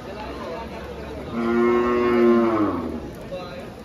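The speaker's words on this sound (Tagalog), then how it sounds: "ang mga babaeng baka" A female cow moos once, long and loud, at a wet, rainy livestock market. Steady background noise surrounds the call, with no talk.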